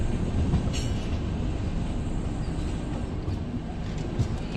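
Narsapur local train passing near Gudivada Junction, a steady loud rumble of rolling railcars with faint clatter throughout, close by and without talk.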